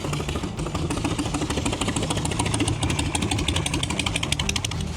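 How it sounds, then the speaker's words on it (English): An Indian motorcycle engine runs steadily at a swap meet, a continuous mid-pitched idle with a busy, knocking rumble throughout and no pauses, fairly close by. "There's your man, Buck's Indian motorcycle."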